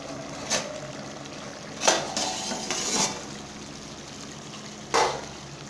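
A spoon stirs beef karahi in a metal cooking pot, giving a few scattered scraping clanks over a quiet background hiss.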